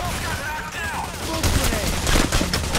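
Rapid bursts of gunfire in the co-op heist video game PAYDAY The Heist, dense overlapping shots that grow louder and more frequent toward the end.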